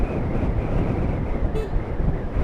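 Strong wind buffets the microphone of a moving motorcycle in a loud, continuous roar with rumbling low gusts.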